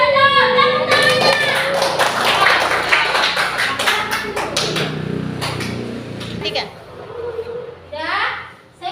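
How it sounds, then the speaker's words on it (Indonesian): A class of children clap their hands in a quick burst in a classroom, with kids' voices chattering over it before the room settles and a single voice speaks. "Yang benar, tepuk tangannya."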